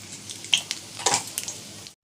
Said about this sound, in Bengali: তেলে ফোড়ন দেওয়া হবে পাতা আর সাদা জিরে।